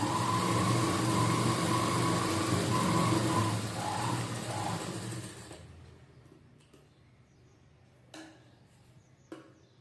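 An electric sewing machine stitches a katori blouse, running loud and steady for about five seconds before stopping. Near-silence follows, broken by a couple of faint knocks.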